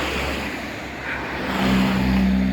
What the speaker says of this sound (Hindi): गाड़ियों की आवाज़ बढ़ रही है।